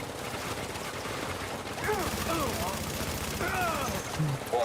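Deployed turrets firing in The Division 2 video game, a continuous rattle of rapid gunfire running under the game's synthetic announcer voice and other voices, with sharper bursts toward the end.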